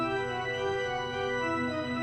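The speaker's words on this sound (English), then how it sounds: "We've got the organ playing when they walk in." A pipe organ sounds as a triggered sound effect in a Curse of Strahd tabletop session, holding a sustained chord of rich, layered tones at a steady level, with no voices.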